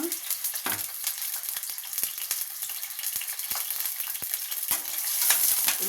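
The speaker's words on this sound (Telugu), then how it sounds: "ఇప్పుడు ఇందులో ఉల్లిపాయలు వేసుకుందాం" Onions dropped into hot oil for a home-cooked chicken biryani sizzle and crackle steadily, with sharp spattering pops and occasional stirring, the frying close and continuous with no talk.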